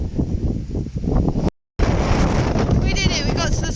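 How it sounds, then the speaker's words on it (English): Strong wind gusts roar loudly across the microphone on the rocky summit of Ifach on a rainy day, a dense continuous rumble with a brief dropout partway through. "Very windy."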